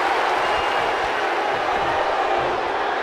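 A WWE 2K19 arena crowd cheers in a steady, loud, dense roar of voices that holds evenly throughout.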